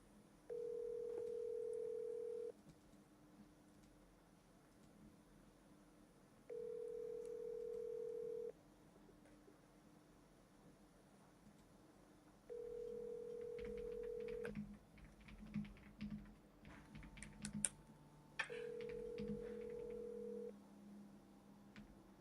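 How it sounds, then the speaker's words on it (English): Outgoing phone call: a steady tone sounds in four evenly spaced bursts of about two seconds, separated by quiet gaps, with some faint clicks and handling noise toward the end. "We always triple dial, and after the second dial, we will send them a text."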